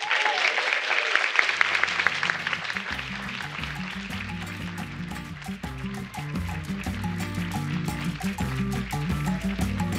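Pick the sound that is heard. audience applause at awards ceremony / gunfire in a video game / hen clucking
audience applause at awards ceremony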